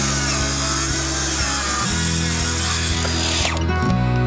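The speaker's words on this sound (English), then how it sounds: "now I can lock the circular saw right against this, and then when I slide it, it can just be level with this" Circular saw cutting flooring: a loud, steady whining motor drone with grinding that changes pitch as the blade works through the board, then winds down toward the end.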